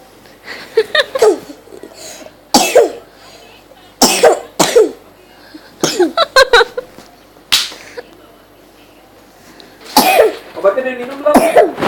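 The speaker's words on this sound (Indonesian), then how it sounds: "Lagi batuk, lagi dipotong." A person coughs in repeated sharp bursts separated by pauses, loud and close, with some talking between the coughs.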